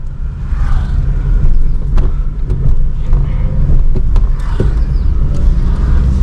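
A car driven with a manual clutch and gears, turning right, gives a steady, loud engine rumble and road noise from inside the cabin, with a few faint clicks and knocks.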